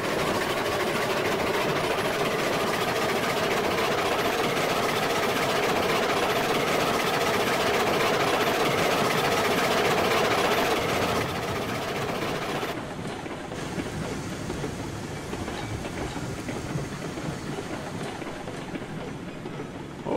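A train in the video game Railroad Online rolls downhill, giving a loud, continuous rumbling roar that softens slightly partway through, with no speech.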